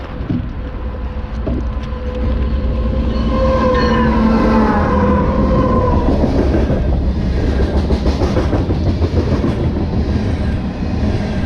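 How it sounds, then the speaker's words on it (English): A train passes close by a fishing spot by the water, a loud, sustained rumble with wheel clatter and rising and falling tonal squeals that swells and holds for the full stretch. "Train about to go right past me."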